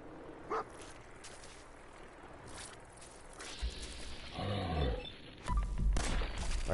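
Dogmeat, the dog companion in Fallout 4, barks a few times in the game amid footsteps and combat noise, the barks fairly loud and close with no talking.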